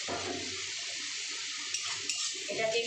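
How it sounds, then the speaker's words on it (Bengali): A splash of water hits spices frying in a hot pan, producing a loud, continuous hissing sizzle that lasts throughout. "একটু অল্প জল দিয়ে দিলাম, নাহলে মশলাটা পুড়ে যাবে।"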